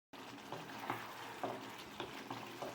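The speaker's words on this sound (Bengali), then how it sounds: "আলুর দমটাকে ভালো করে কষিয়ে নিচ্ছি আমি।" Spiced potatoes for aloo dum fry in a pan with a steady sizzle, broken by regular stirring scrapes and soft knocks roughly every half second. No one talks.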